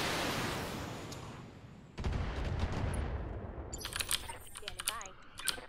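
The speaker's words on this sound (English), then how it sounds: "Lob some missiles over." Missile volleys launched by mechs in the Battletech video game, a dense rushing roar followed by a second burst and scattered crackling impacts, with some speech mixed in.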